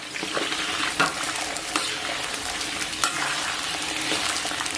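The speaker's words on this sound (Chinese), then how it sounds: "咱们把切好的葱姜给它下到锅中，简单煸炒一下，咱们给它炒香。" Chopped scallion and ginger with Pixian chili bean paste are stir-fried in a wok of oil. A dense, close sizzle carries a few sharper spatula scrapes and knocks, with no speech.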